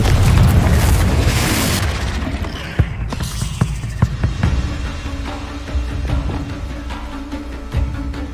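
A Confringo spell detonates in a Harry Potter video game: a loud booming blast with a rumbling roar that fades into scattered clanks, pops and debris sounds.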